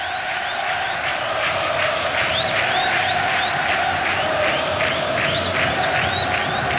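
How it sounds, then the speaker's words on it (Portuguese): Flamengo football supporters fill a stadium with a steady, dense roar of crowd noise and cheering during the 2004 Carioca final against Vasco, with repeated whoops and shouts rising over the constant wash. "Essa é a torcida do Flamengo que acorda"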